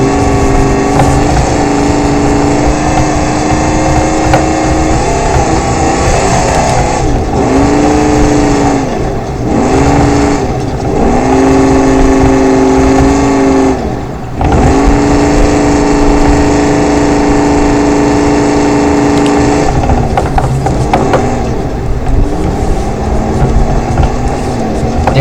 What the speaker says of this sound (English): The only thing I don't like about the V8s in this game is that they sound like they're working so hard just to do nothing.